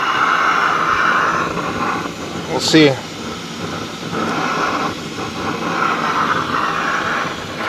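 A Jetboil camping stove burner runs outdoors on Missouri public land while a freeze-dried meal is made, a steady close hissing roar that continues under a brief spoken remark.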